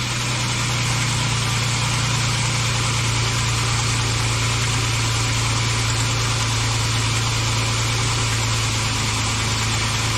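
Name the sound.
car engine idling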